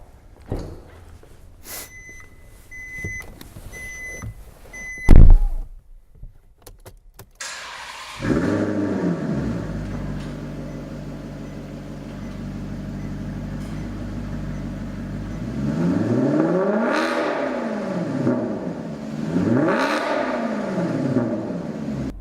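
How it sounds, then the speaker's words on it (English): A 2015 Maserati GranTurismo MC Sportline with a Ferrari-derived V8 fires up with a loud bark after a few door-chime beeps, settles into a deep idle, then swells through two strong rising-and-falling revs. "it is a Ferrari-derived V8, so let's have a quick listen to the engine"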